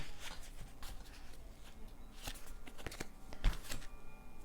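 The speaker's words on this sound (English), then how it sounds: "Spirit wants me to shuffle really well." Tarot cards being shuffled by hand, a steady run of soft riffling and papery slaps at close range, with no talking.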